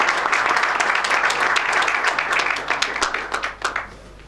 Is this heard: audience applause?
yes